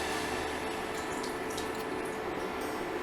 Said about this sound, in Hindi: और अब मैं इसमें डाल देती हूँ पानी।